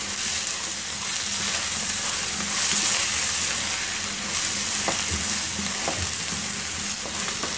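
Chilli powder being stirred into hot frying oil for a traditional small-onion pickle, a loud continuous sizzle close up with steady scraping and stirring throughout.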